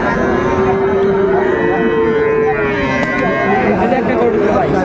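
Sahiwal cattle low at a crowded livestock market, a sustained moo rising over the background chatter and talk of the people nearby.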